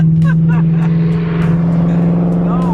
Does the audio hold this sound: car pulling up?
yes